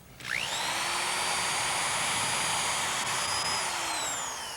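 A power drill whines steadily while boring into a fiberglass boat hull, its motor pitch rising sharply at the start and then holding a loud, continuous tone throughout with no talk.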